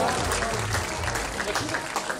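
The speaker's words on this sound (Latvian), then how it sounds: "Aplausi ģimenei" An audience at a 2013 televised final claps in steady, dense applause that fills the whole moment, with a voice speaking over the clapping.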